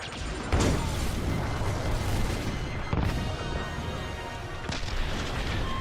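A missile launches in the Star Wars Squadrons space-combat game, a deep booming blast over a constant heavy roar of engines and combat noise, with further thuds following, loud and without talking.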